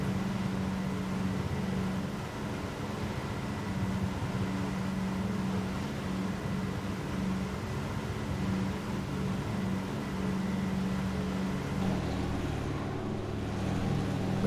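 Twin radial engines of a Douglas DC3 Skytrain in a flight simulator drone in a steady, low, droning hum with a faint airy rush over it, unchanging and continuous throughout, with no voices.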